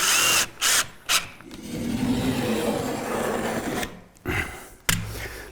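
Power drill driving 2.5-inch deck screws during assembly of a soundproofing build: several short bursts of whirring, then a longer sustained grinding drive, followed by more brief spurts, moderately loud and close.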